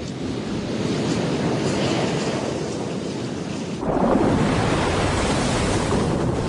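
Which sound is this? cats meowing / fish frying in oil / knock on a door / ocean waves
ocean waves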